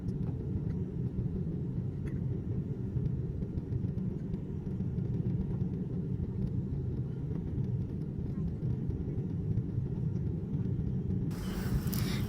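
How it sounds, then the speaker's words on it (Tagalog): Cabin rumble inside a small airplane descending and landing on a trip to Boracay, a loud, steady low roar filling the whole stretch with a brighter hiss near the end. "ramdam na ramdam ko yung pagbaba ng eroplano kasi medyo maliit nga yung eroplano"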